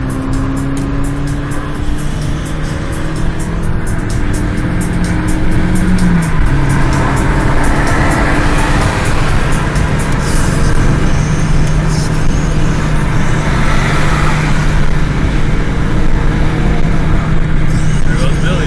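A Dodge Challenger SRT and a Mini JCW fly by on a road, making a loud, steady roar of engine and road noise that swells and holds throughout as traffic passes.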